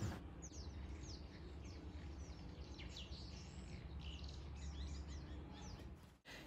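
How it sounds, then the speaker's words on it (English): Thrush nestlings calling from a nest, faint high thin chirps repeating in quick clusters over a low background rumble, fairly distant and quiet throughout. "I could hear tiny little voices of the baby birds for the first time."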